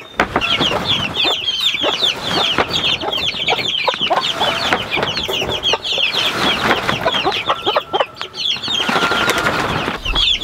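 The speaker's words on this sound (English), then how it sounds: "The broody hen, she's just awesome at scratching and pecking." A broody hen with her chicks on a homestead clucks steadily over fresh grass, with dense overlapping clucks, peeps and scratching carrying on continuously and close by throughout, with no talking.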